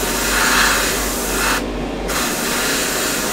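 Tamiya acrylic paint sprays from an airbrush onto bare, unprimed plastic of a 1/32 ICM CR.42 biplane model, a steady close hiss that cuts out briefly and then resumes.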